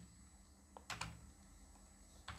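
Keys on a computer keyboard are tapped to enter a text prompt: a few faint, close clicks in small bursts over a quiet room hum.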